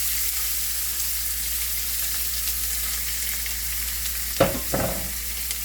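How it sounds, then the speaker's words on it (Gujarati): Finely chopped onion fries in a pan with a steady, even sizzle up close, and a couple of brief stirring scrapes come near the end. Nobody speaks. "મેં એક અડધી ડુંગળી ઝીણી સમારી લીધી છે, તે નાખી દઈશું."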